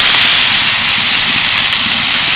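Grated potato dropped into hot white oil with cumin in a kadai sizzles loudly and continuously as a dense, steady hiss close by, with no talking.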